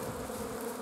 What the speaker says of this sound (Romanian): Albina a început să lucreze destul de bine.